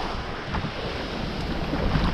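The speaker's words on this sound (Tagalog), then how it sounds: "Medyo malakas na yung alon, saka malakas na yung hangin, uwi na kami." Strong wind buffets the microphone on a small boat ride off Quezon, Palawan, with rough waves rushing steadily alongside, a loud continuous roar of hull noise and spray and no voices.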